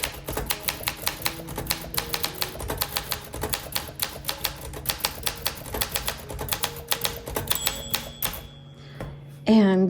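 Typing on a 1963 Olympia SM5 manual typewriter: crisp rapid keystrokes in a quick uneven rhythm, a bell ding near the end, then the carriage return sliding back.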